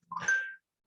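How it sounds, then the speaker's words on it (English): A single short electronic chime from a phone, one brief bright tone fading in under a second, heard alone without talking. "Oh my goodness, phone is going bananas."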